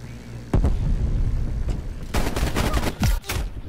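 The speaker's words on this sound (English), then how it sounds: "I switched to shotgun." Shotgun blasts ring out in the Call of Duty Cold War beta video game, a few sharp, loud booms at the start and a quick cluster near the end amid game noise.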